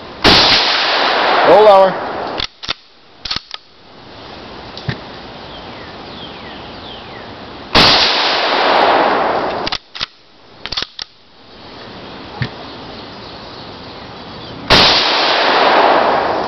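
Bolt-action Mauser rifle fired outdoors at a target range, three sharp loud cracks spaced several seconds apart, with brief voices and handling noises between shots.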